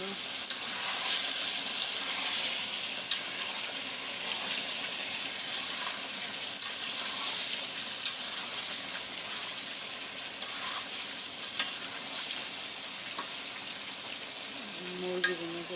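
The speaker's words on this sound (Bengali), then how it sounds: "মুরগি বোনা করতেছি।" Chicken frying in a pan while being stirred: a quiet, steady sizzling hiss runs throughout, broken by occasional small clicks and scrapes of the stirring utensil, with no clear talk.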